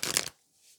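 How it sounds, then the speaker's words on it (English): A single quick riffle of tarot cards being shuffled, a soft close papery flutter lasting a fraction of a second before dropping to near silence. "So let's just shuffle some cards here"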